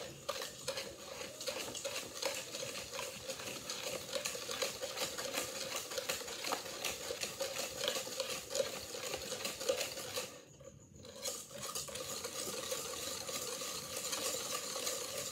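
Crinkle cookie batter being beaten with eggs until smooth, a steady close scraping and whisking against the bowl that runs continuously with a brief pause near the end, no voices.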